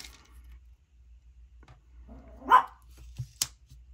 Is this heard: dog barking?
yes